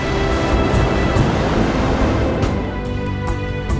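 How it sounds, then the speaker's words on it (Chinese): Sea waves make a loud, continuous broadband wash of surf that rolls steadily and eases slightly toward the end, with faint clicks and knocks above it and no speech. "大海的声音，你听啊。"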